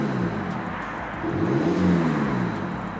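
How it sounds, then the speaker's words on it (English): A rear-wheel-drive Alpina D3 Bi-Turbo runs with a deep, steady engine rumble close by, swelling briefly as the revs rise and then settling back. "But start the engine."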